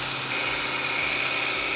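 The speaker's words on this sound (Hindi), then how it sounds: "इस कील को हम लगेंगे ड्रिल मशीन में अब गाइस हम थोड़ा सा घिस देंगे" A handheld drill machine spins a roughly 2 mm nail while it is ground down, giving a loud, continuous high-pitched motor whine and grinding hiss with no break and no voices.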